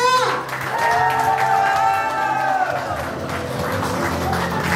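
An audience at an insurance company event in Nepal claps for a woman being honoured, a dense burst of applause with some cheering that carries on under a voice speaking over it.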